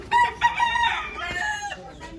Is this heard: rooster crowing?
yes